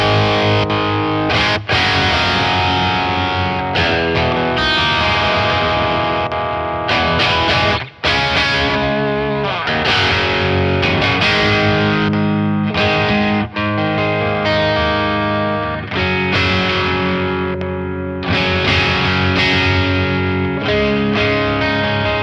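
Electric guitar played through a Horizon Devices Nano Attack distortion pedal, stepping through its attack positions: loud, saturated riffing and chugging with short gaps between phrases, continuous and close with no talking.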